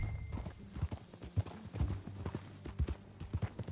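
Horse hooves clip-clop in a steady rhythmic gait while riding in Red Dead Redemption 2, moderately close, under a low ambient game bed with no talk.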